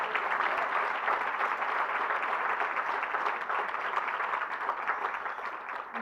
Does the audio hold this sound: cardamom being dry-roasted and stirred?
no